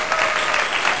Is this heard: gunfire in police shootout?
no